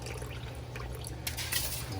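Washed rice tipped into a cooking pot for Benihana-style fried rice makes a soft, wet, steady hiss and patter, fairly quiet and close.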